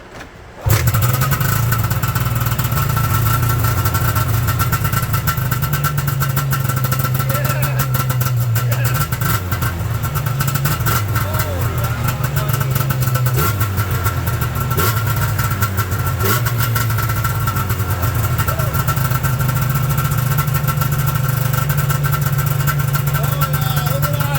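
An Ovation moped engine starts after a short pause and keeps running, a steady buzzing idle with small rev changes, loud and close throughout for about twenty seconds.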